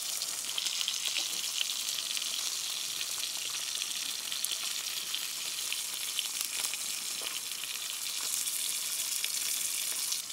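Steak sizzling in a hot pan at a car-camping cookout, a steady, bright, close frying hiss running without pause, with no talking.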